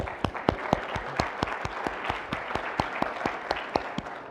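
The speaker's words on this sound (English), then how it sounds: "I would love to give a round of applause to the roundtable leaders." Audience applause after a roundtable session, steady clapping from a crowd with distinct sharp claps standing out throughout, moderately loud and continuous.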